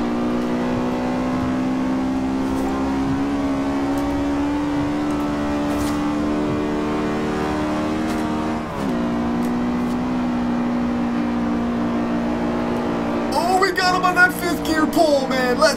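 Honda Civic Type R EK9 with its B16B engine in the Forza Horizon 2 racing game, a sustained high-pitched rev held steady and loud throughout, closing with a burst of rapid rattling crackles.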